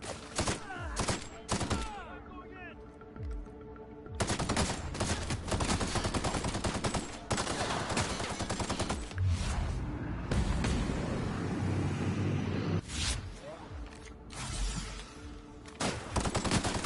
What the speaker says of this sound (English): I don't like that shotgun that they're using, that plasma shotgun that literally can basically kill me